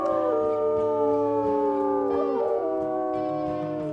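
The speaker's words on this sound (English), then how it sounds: "her howl really stands out" Several wolves howl together in a wolf pack video game, long overlapping rising and falling tones held steadily and loud, with some voices sliding in pitch throughout.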